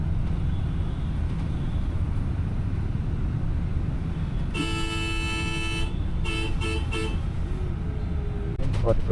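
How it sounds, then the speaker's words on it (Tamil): A Chennai MTC electric bus horn blares in a few honks, one long and then several short bursts, over steady engine and road rumble. "ஹார்ன்லாம் அடிக்குது, அதனால் கொஞ்சம் அடிச்சுட்டு போகிறாங்க."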